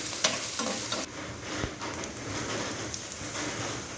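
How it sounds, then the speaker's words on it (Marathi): Finely chopped medium onion fries in hot oil in a pan for a bitter gourd dish, giving a steady, close sizzle with occasional spoon stirring clicks and no voices. "बारीक चिरलेला एक मध्यम मध्यम आकाराचा कांदा टाकलेला आहे गुलाबी रंगावर तळून घ्यायची"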